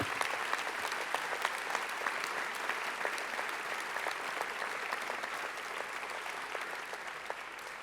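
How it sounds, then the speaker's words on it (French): Sustained applause from a large audience at a political convention in Lille fills the space, dense and steady, with sharp claps throughout. "qu'il faut applaudir très très fort"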